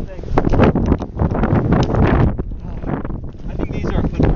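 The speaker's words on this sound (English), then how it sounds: "Think of how windy it is." Strong wind gusts buffet the microphone on a sandy beach, loud, uneven roaring bursts with brief lulls, blowing hard enough to carry sand.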